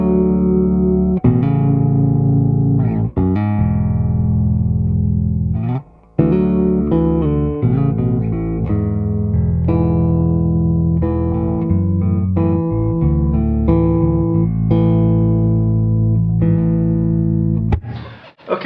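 A bass guitar plays through an Ashdown Dual Tube 550 bass head with the EQ set flat. A loud, continuous bass line of full, sustained notes runs without a break, with no talking.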